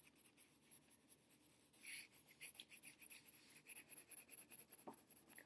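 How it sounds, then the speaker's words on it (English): A pencil scratches lightly and steadily across paper in rapid, even strokes while shading a value scale, heard close and quiet with no talking. "I'm just going to let the weight of the pencil kind of scratch the surface."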